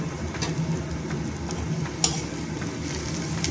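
Onions sizzle in ghee and refined oil in a pan, a steady close frying crackle with a few sharp clicks and a metallic tap partway through.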